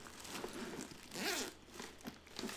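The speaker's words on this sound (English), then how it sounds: "So you got your nice little zipper here, store some stuff in there, and then it zips up right here" Zipper on a Miami South Beach bag being pulled, a soft close rasp with a brief louder zip in the middle, with faint crinkling around it.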